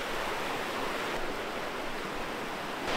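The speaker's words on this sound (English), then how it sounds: "You probably can't hear me because of the rushing water" A stream on New Zealand's South Island rushes loudly and continuously close by, a dense steady roar with no other sounds standing out.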